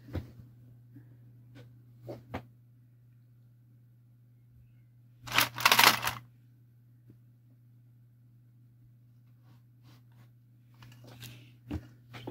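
A parcel of jewelry is unpacked, giving a few short, quiet crinkles of packaging and one louder rustling burst midway, with near silence between the handling sounds.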